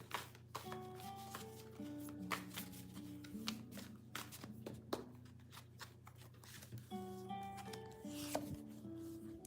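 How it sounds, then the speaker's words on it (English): Tarot cards are shuffled repeatedly nearby, crisp riffling bursts and taps in an irregular rhythm, with faint musical tones underneath. "Shuffle the cards a little more."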